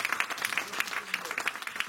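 A church congregation claps in quick rhythmic bursts, with scattered cheering voices mixed in.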